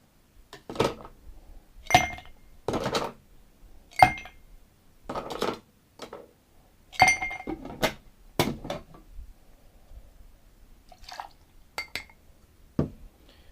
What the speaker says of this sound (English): let me add some ice